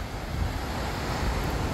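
Sea waves and steady wind on the rocky coast at Puerto de Las Nieves in Agaete, Gran Canaria, a continuous loud roar of surf blended with wind buffeting the microphone.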